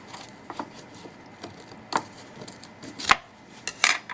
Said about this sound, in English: I don't want to use my good fabric scissors in here because there's glue in here.